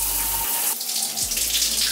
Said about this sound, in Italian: Adesso doccia